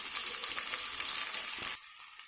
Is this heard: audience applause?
no